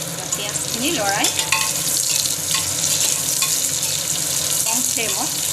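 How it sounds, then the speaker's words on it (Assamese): Sliced onions sizzling in mustard oil in a pressure cooker pan over a low flame, a steady close crackle with occasional scraping stirs and no talk. "কম ফ্লেমত এতিয়া মই ভাজি থাকিম ডাৰ্ক ব্ৰাউন নোহোৱালৈকে পিঁয়াজখিনি ভাজিব লাগিব"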